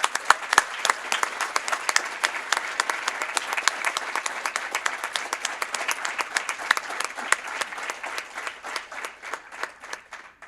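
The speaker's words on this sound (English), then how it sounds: "let's give a big round of applause for Cliff Brockman." An audience at a student production awards ceremony applauds for several seconds, many hands clapping in a lively, sustained round that slowly tapers off.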